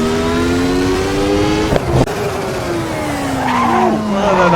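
Simulated 1992 Lotus 107 Formula One car in Assetto Corsa, its engine whining steadily as the left front tire locks up braking into Goddard's, with a short skid squeal near the end.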